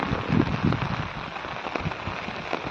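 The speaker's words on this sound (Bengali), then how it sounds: "পরশু কালকে আজকে 3 দিন ধরে বৃষ্টি হচ্ছে, প্রচুর পানি।" Rain falls on a flooded wetland after three days of continuous downpour, making a steady, dense patter with a few louder splashes near the start.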